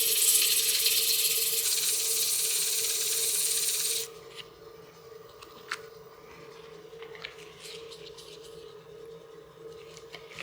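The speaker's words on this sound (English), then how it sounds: "We'll sand that tenon, the recess, and that little step right here by hand." Sandpaper is worked by hand against a wooden tenon spinning on a lathe, giving a loud, steady rasping hiss for about four seconds. After that come a quieter motor hum and a few faint clicks.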